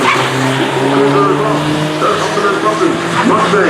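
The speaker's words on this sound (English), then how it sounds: "I think that's a turbocharged edition" Turbocharged PT Cruiser and a Mustang drag racing down the strip, engines droning loudly and steadily with shifting pitch, overlaid by a commentator's continuous talk.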